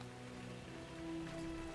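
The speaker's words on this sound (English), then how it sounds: "Come in out of the rain." Steady rain falls in the video game ARK, a soft continuous patter with a faint hum underneath and no voices.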